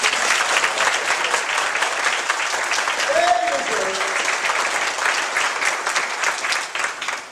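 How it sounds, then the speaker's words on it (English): Steady audience applause for military veterans at an outdoor summer concert fills the whole stretch, a dense, even roar of many hands clapping at full strength with no pause. "Please give them a round of applause."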